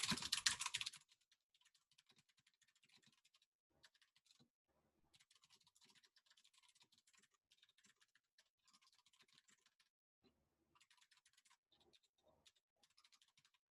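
Computer keyboard typing code during a programming lab session: quiet, irregular bursts of clicking keystrokes with short pauses, after a brief louder noise at the start.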